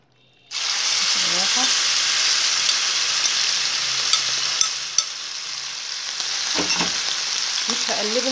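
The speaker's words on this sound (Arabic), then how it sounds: "وهنزل بقى بالكبدة عليه." Marinated liver laid into hot oil in a frying pan, a sudden loud sizzle bursting in and holding steady, with a few clicks of utensils and someone speaking over it.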